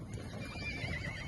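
Kazakh horses in a herd, one neighing with a wavering whinny over a steady low rumble of the herd at moderate distance, with no talk.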